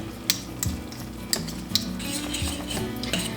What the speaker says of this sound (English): let me just take a fork here quickly. Whisk this in.